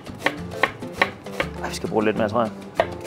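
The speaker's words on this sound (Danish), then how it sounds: "Vi starter med bare at tage løget og snitte det sådan rimelig fint" Onion chopped finely with a knife on a board, with sharp, regular close knocks and a short run of quicker cuts, and a person speaking briefly in between.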